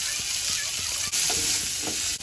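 Dry red chili, bay leaf, whole mustard seeds and mango pieces sizzle loudly in hot oil for a Bengali chutney. The hissing frying is dense and continuous, with brief stirring clicks and a couple of sharp pops.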